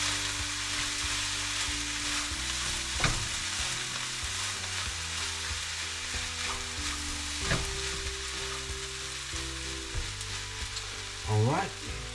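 Egg fried rice sizzles steadily in a hot pan as it is stirred, with occasional scrapes and clanks of the utensil against the metal over a low kitchen hum and no talking.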